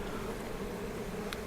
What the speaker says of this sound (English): bees do not like me today